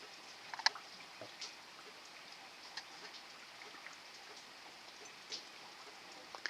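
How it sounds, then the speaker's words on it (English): Raindrops strike a window with soft, scattered light ticks and taps at irregular intervals over a faint, quiet background. "Get those lovely raindrops on the window."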